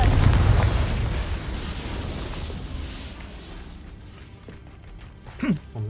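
A Confringo spell explodes in Hogwarts Legacy with a loud, close blast that fades into a long rumbling decay, followed by a few faint effects near the end.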